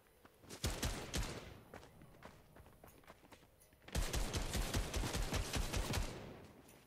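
Rapid bursts of gunfire in the video game Fortnite, two clusters of fast repeated shots, the second longer and louder, fairly close and alone without talk.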